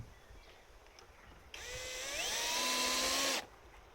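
A power screwdriver drives a screw into the roof of a beehive during roof insulation work. After a quiet start comes one close, loud whirring burst of about two seconds whose pitch rises, then it stops abruptly.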